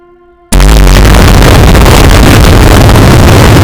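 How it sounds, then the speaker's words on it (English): Saturn V rocket exploding at liftoff in a mobile game: faint quiet tones, then an abrupt, extremely loud roaring blast that stays saturated and thundering until the end. "The Saturn V exploded"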